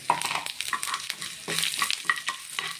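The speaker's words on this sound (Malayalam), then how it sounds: "ഇനി ഇതിലേക്ക് വറ്റൽമുളകും കറിവേപ്പിലയും ഇട്ട് കൊടുക്കാം." Dried red chilies and curry leaves dropped into hot oil with browned mustard seeds and urad dal for a Kerala ivy gourd stir-fry, crackling in loud bursts with spoon stirring, close and continuous.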